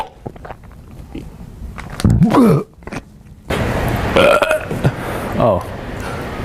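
Loud, drawn-out burps erupt in a quiet library, one around two seconds and a longer gurgling belch near four to five seconds, separated by brief gaps with room noise underneath.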